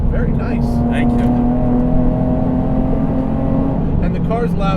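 Loud, steady engine drone from a supercharged 430 WHP Nissan 370Z on sporty tires while driving, a sustained low hum with rising whine near the end, and a person talking over it.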